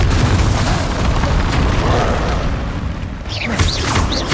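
A Confringo fire spell blasts in Hogwarts Legacy, a loud sustained booming burst with rumbling low end, followed by fainter high whooshing effects near the end.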